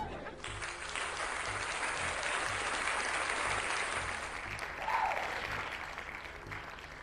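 Applause from a crowd of zombie characters in the animated Plants vs Zombies 2 movie, a steady dense clapping that holds for several seconds with a brief swell near the end.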